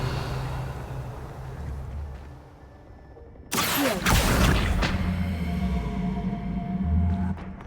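A Revelio spell cast in the video game Hogwarts Legacy: a sudden loud whooshing burst with a shimmering ring that swells and slowly fades over a steady ambient background, no voices.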